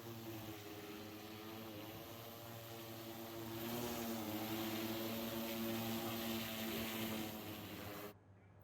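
An agricultural drone sprays pesticide over a soybean crop, its rotors giving a steady, fairly close buzzing drone that swells and rises slightly in pitch midway, then cuts off abruptly near the end.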